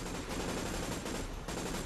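Sustained automatic gunfire in the video game ORC, a dense continuous burst of rapid shots at steady loudness with brief dips, no talking over it.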